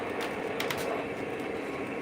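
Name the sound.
model trains running on a layout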